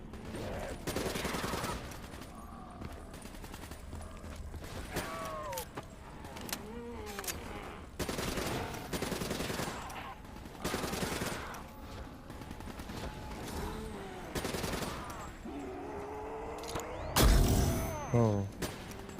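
Gunfire in the video game Call of Duty: Black Ops 3, with repeated bursts of weapon fire and mechanical clicks mixed with game sounds and some speech, loud and layered throughout.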